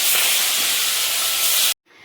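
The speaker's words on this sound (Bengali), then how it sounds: "তেল গরম হয়ে গেছে, এবার আমি মাছগুলো আস্তে আস্তে ছেড়ে দেব" Ritha fish, rubbed with salt and turmeric, hit hot mustard oil in a pan with a loud, sustained frying hiss that lasts under two seconds before cutting off sharply.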